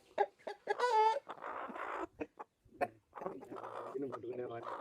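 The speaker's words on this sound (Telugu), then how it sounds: "మన భీమవరం పెట్ట చూడండి" A Bhimavaram breed hen clucks in short bursts close by on a farm, with people talking over and between the calls.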